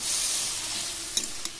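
Ripe chopped tomato dropped into a sizzling shol fish curry with mixed vegetables, a steady close hiss of frying with a couple of quick stirring scrapes.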